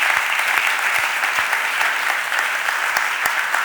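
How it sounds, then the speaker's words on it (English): Sustained applause from a city council meeting audience honoring city employees, a dense, even wash of clapping with a few sharper individual claps standing out. "Let's give all of our employees a round of applause."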